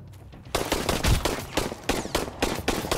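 Rapid gunfire in the Sunkenland survival game, a series of sharp loud bursts cracking in quick succession after a brief quiet start.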